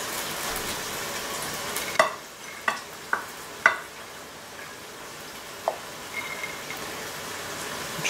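Kale and sausage frying in a pan, a steady sizzle broken by several sharp scrapes and clacks of stirring, close up and without talk.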